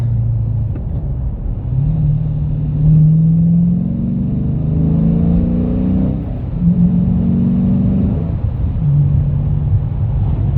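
A car with a 6-speed manual gearbox accelerating after a downshift, its engine note rising and falling through several gear pulls over a continuous road rumble heard from inside.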